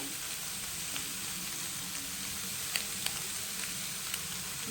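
Soybean chunks sizzle in a hot pan with chili powder, a steady dense frying hiss with a few small pops and crackles, close and alone without talk.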